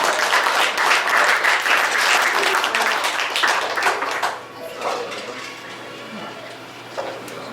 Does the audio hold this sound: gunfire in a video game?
no